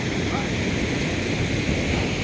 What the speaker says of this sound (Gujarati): આ નદી ગોમાઈ માતા નદી છે